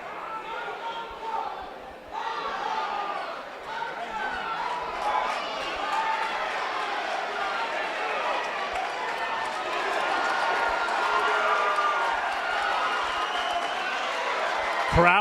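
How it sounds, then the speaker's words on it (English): An excited boxing crowd roars steadily through a bout between Matt Doherty and Danny Morales, the dense cheering swelling louder toward the end, with a commentator talking over it. "Crowd is in a fever from Matt Doherty."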